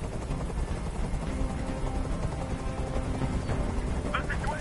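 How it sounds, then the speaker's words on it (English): A helicopter hovers in the video game Detroit: Become Human, its rotor noise a constant, moderately loud drone with no pauses. "I can't stand that noise anymore. Tell that helicopter to get out of here."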